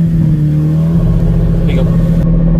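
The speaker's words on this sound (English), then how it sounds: "just clutch in, mash the pedal" A 375 whp stage 2 Ford Focus RS engine holds a steady, loud high-rev drone with the clutch in for launch control, close and constant, with voices partly over it.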